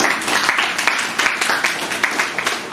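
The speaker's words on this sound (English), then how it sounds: "Please give a huge round of applause for Dr. Shailendra Pratap Singh." An audience claps in a steady, brisk burst of applause, close and fairly loud throughout.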